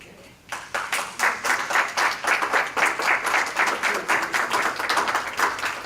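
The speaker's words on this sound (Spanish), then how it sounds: "Ángel Cuadra, lo invito a que venga a este micrófono con un fuerte aplauso" A crowd breaks into applause after a brief quiet moment, many hands clapping in a rhythmic, pulsing pattern that holds steady throughout.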